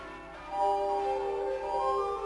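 A civic clock-tower bell rings with a sustained, steady metallic tone that swells slightly and hangs in the air, close and fairly loud.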